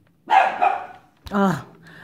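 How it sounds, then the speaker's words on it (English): A dog barks loudly nearby in a couple of sharp, close bursts, with a short gap between them. "That's my dog barking"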